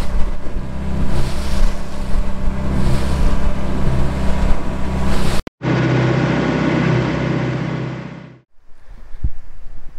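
A dive boat motors back toward St Mary's Harbour in the Isles of Scilly, its engine droning steadily under heavy wind buffeting, then cutting to a brief hiss before the rumble returns faintly.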